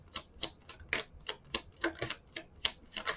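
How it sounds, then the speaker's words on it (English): Tarot cards are quickly shuffled, giving a run of about a dozen crisp, fairly quiet flicks and taps in a fast irregular rhythm, close by and with no voices. "I'm going to do a quick shuffle."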